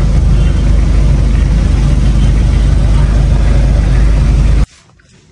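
A Toyota Corolla engine runs loud and close with a steady low rumble and a slight rise like revving, then cuts off abruptly near the end.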